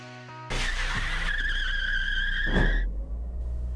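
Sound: car accelerating from standstill

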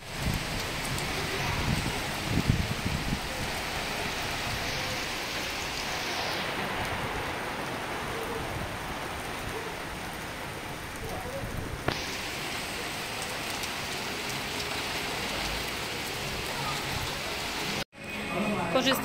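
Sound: tropical rain during a storm on Phuket, Thailand

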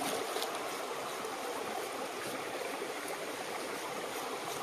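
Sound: washing pig leg in water

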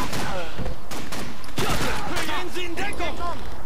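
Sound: gunfire in the video game Call of Duty 2

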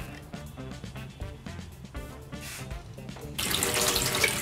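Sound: water running from a repaired sink tap

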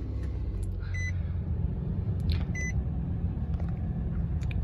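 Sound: 2018 Nissan Frontier Pro-4X truck engine started

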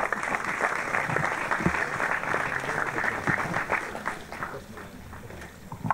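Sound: applause

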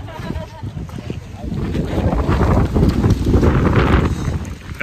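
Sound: strong wind blowing outdoors

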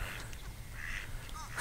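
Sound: mallard ducks quacking

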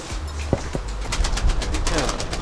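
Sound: pigeons cooing in a loft

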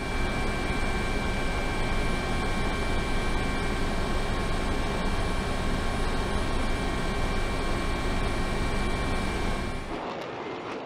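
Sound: F-22 Raptor jet with Pratt & Whitney F-119 turbofan engines

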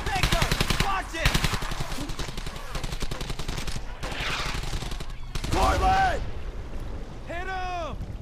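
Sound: machine gun fire in video game Brothers in Arms: Hell's Highway

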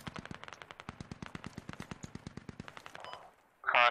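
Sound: AK rifle gunfire in video game Squad

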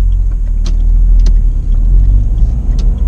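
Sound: Dacia Logan MCV car driving

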